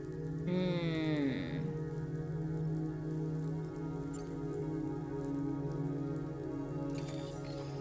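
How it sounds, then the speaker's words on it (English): Rain falls inside a hologram room in the video game Death Stranding 2, a steady soft patter of drops that holds under a low droning tone throughout. A brief rising musical sweep sounds early, then the shower carries on alone. "why is it raining inside?"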